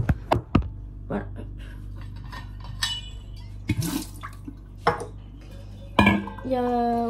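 Dishes and cutlery clatter in a kitchen sink in sharp, scattered knocks and clinks over a low hum, with someone talking in between and water running briefly.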